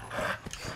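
A dog in the video game Fallout 4 gives a short, faint bark or yelp amid game background noise.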